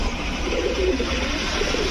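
Pigeons at a Bangladeshi pigeon seller's coop cooing softly, low repeated coos over a steady murmuring background of birds.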